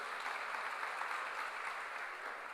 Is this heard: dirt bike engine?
no